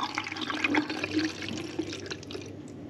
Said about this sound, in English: Developer out, fresh water stock bath in.